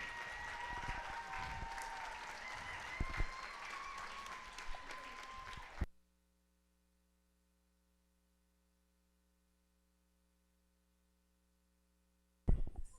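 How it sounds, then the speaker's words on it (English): Audience applause and cheering after a Bharatanatyam arangetram dance debut in Jacksonville, a dense burst of clapping for about six seconds that cuts to near silence, then a short return of sound at the end. "Applaud. Cheer."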